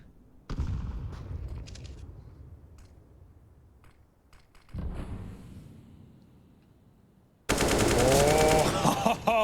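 Bursts of rapid rifle spray gunfire in Counter-Strike on the map Dust2, in sustained sprays separated by short pauses, with the final burst loud and dense.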